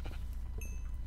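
A sheep in the Minecraft video game gives a faint, short bleat, mostly buried in steady low game background noise.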